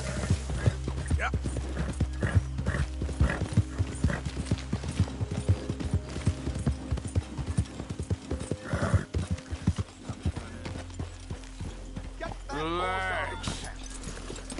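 Rhythmic clip-clop of horse hooves in the Red Dead Redemption 2 video game, steady and close under a game soundtrack, ending with a horse's whinny.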